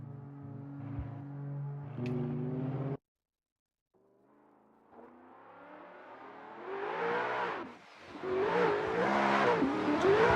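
At a drift competition, a Toyota Supra launches with Abramov's car chasing it. A brief engine drone cuts out, then engines rise in pitch and volume into loud, screaming revs with tire noise, heard from a distance.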